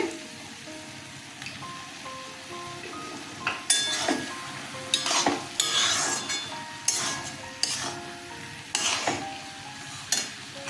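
Prawns go into a pan of simmering ash gourd and sizzle as a spatula stirs and scrapes against the metal in repeated sharp strokes, with a steady hiss of frying underneath; no one speaks.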